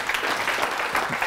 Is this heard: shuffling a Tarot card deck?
no